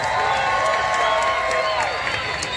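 A county fair crowd cheers and applauds the grand champion racing pig, a dense, continuous roar of cheering, whoops and clapping that holds steady throughout with an announcer's amplified voice mixed in.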